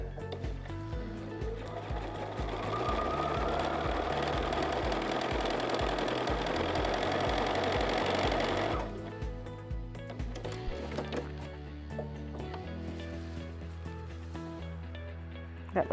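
A sewing machine hems coated spandex, stitching in a rapid, even mechanical rhythm for about nine seconds before stopping abruptly, leaving faint handling noises.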